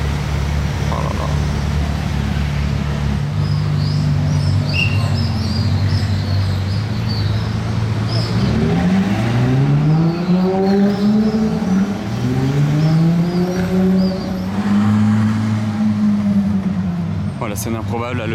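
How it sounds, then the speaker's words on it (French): Two Ferraris, one of them an Aperta, drive past on a street in Monaco during the Grand Prix, their engines rising and falling as they sweep by and pull away, with an excited voice talking over them. "Regardez qui revient vers nous, c'est très chaud ce combo des deux, la Ferrari et la Ferrari Aperta là comme ça"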